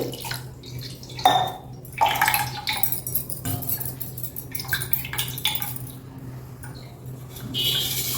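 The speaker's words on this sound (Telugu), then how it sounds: "మళ్ళీ కొంచెం నీళ్ళు పోసేద్దాం చల్లటి నీళ్ళు" Cold water poured over cooked sabudana (tapioca pearls) in a kitchen, splashing and trickling in uneven bursts with wet squishing and a clink of a pot, close and fairly loud.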